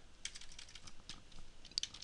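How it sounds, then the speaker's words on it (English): Quiet keystrokes tap on a computer keyboard while entering a form field in WordPress, a quick irregular patter of light clicks, close and faint, with no voices. "So I could type in"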